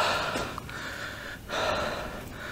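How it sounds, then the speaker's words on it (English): Heavy, close breathing from a character in a horror video game, a couple of sharp gasping inhales and exhales with a short pause near the middle, heard alone with no talk. "It was him breathing, I suppose."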